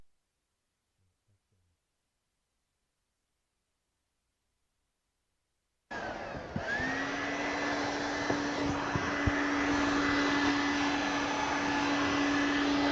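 Vacuum cleaner switching on after near silence, then a loud steady whine and roar with a rising motor pitch that holds for the rest of the clip, close by and alone.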